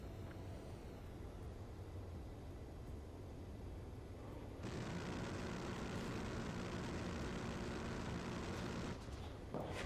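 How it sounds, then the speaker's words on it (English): Enemy aircraft attacking in Ace Combat 7 produce a continuous roar of jet engines that swells louder midway and holds steady, a dense droning wash with no speech. "Being attacked by enemy aircraft!"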